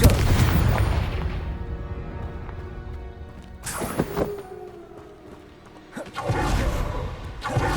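Confringo blasting spell in Hogwarts Legacy, a heavy boom at the start, then two more sharp whooshing blasts with crashing impacts a few seconds apart, each trailing into a rumbling decay.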